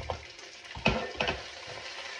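Tiger giant shrimp dropped into hot oil, a burst of sizzling frying with a couple of louder splashy crackles and stirring, close and fairly quiet, no voices.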